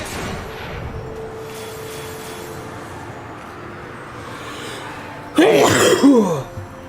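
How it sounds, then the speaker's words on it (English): A single sharp, loud sneeze lands close to the microphone near the end, after several seconds of quiet background from a video game. "I actually turned towards the microphone and then sneezed"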